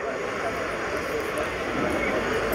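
An Aero L-159 jet at the Yeovilton navy airshow roars steadily overhead, a loud continuous broadband engine rush, with a commentator talking over the public address.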